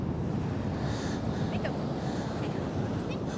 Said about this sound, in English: This is such a great beach, man.